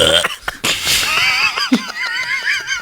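A loud close burp during a Thanksgiving lodge chat, mixed with laughter and snickering, with voices around it.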